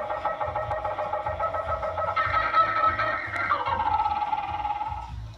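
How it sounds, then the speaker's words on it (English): A tropical bird calls in a continuous run of shrill, warbling chirps and whistles that hold steady before sliding lower near the end, with no voices. "Tropical bird."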